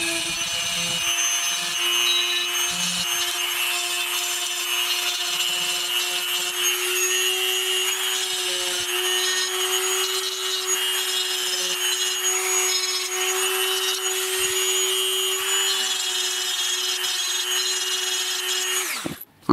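Dremel rotary tool fitted with a barrel sanding bit grinds steadily against a plastic action figure held in needle-nose pliers, a loud, continuous high-pitched whine running close by for the whole stretch before cutting off at the end.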